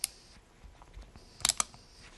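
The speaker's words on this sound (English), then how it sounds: "Bring our gun to full cock." Hammer of an old-style three-screw Ruger single action revolver drawn back to full cock, giving two sharp mechanical clicks in quick succession, close and crisp against near silence.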